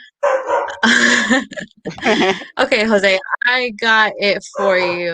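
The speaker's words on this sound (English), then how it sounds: "excuse my dog in the background who is barking" A dog barks repeatedly in the background, yips and whimpers mixed in, while someone speaks over it close to the microphone.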